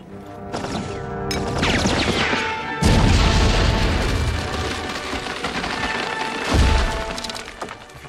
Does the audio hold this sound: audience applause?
no